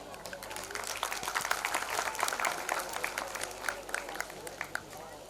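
A school annual day crowd of parents and guests claps in warm, sustained applause, many hands in a busy even patter with a faint voice or murmur mixed underneath throughout.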